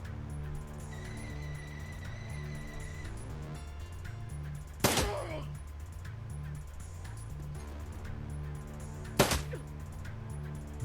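Two sharp, isolated gunshots fire a few seconds apart in the Shadowrun Dragonfall video game, ringing out over a steady, droning game soundtrack with no talking.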